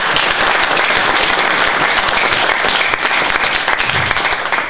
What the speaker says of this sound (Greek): χρειάζεται ο Μιχάλης ένα χειροκρότημα αυτή τη στιγμή.